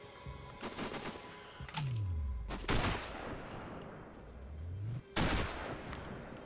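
Several heavy rifle shots from the Sniper: Ghost Warrior video game ring out, loud and close, spaced a couple of seconds apart, each with a booming low tail and echo, with gunfire clatter between.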